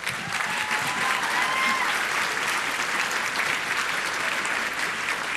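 An audience claps as President Clinton is introduced, a steady, sustained roar of applause from a large crowd, with faint cheering tones early on.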